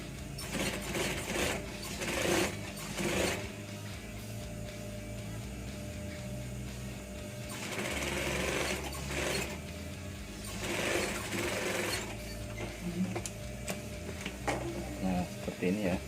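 A sewing machine stitches a fabric lining in short bursts of fast mechanical whirring, separated by pauses, while a person talks over and between the runs.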